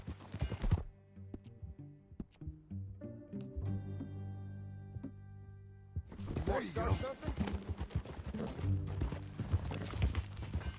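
In the video game Red Dead Redemption 2, horse hooves clip-clop in a steady rhythm under game music and spoken dialogue, with the hoofbeats growing busier and louder in the second half.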